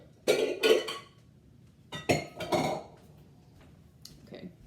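A mixing bowl lifted out among stacked kitchen dishes while baking, with a few sharp clinks of ceramic or glass in short bursts, fairly close, then a faint final tap.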